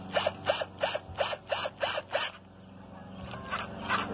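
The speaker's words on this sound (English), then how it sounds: "taking the drill" A power drill fires in seven short, regular bursts, each with a rising whine, while fitting billet hood hinges on a Camaro, followed by quieter scraping and handling noise up close.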